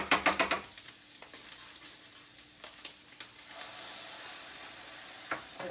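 Pulled jackfruit being mixed with barbecue sauce: a quick burst of sharp clicks at the start, then soft scrapes and a faint sizzle as it is stirred, close by and with no talking.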